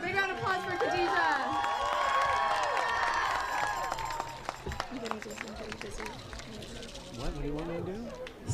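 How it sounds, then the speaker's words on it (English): Crowd at a climate strike rally in DC clapping and cheering loudly at first, the applause thinning out after a few seconds into scattered claps and murmuring voices. "Big round of applause for Khadija."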